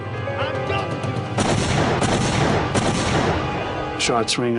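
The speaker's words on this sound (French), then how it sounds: "On entend des coups de feu" A dense burst of loud gunfire erupts and continues for a few seconds, rapid and close, with a voice briefly audible near the end.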